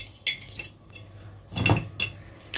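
Two big spoonfuls of Nescafé instant coffee tipped into a bowl for a coffee and chocolate cup dessert, with a few close clinks and scrapes of the spoon against the dish and a louder knock midway.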